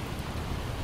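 Rain falls steadily around a campfire where dinner was cooking, giving a short, dense, even hiss of drops.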